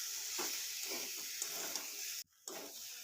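Chilli and turmeric powder get stirred into a sizzling curry pan of potatoes, the steady frying hiss broken by soft scraping strokes and a brief pause near the end.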